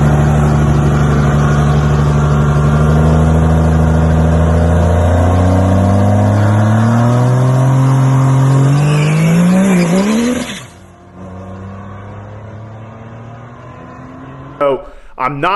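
A Cummins drag truck's loud engine revs and climbs through gears with a rising whine as its tires spin at the track, then cuts out abruptly; tire noise and a brief rattle follow near the end.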